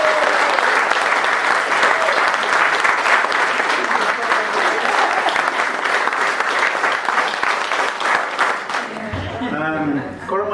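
Sustained applause from a large crowd at a book launch for a novel in Sixmilebridge, loud steady clapping filling the room for about nine seconds before tapering into speech.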